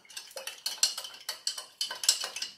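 A spoon stirs a lime, ginger and sugar drink in a jug of chilled water, giving a quick run of repeated light clinks and scrapes against the jug at a steady rhythm, close and alone.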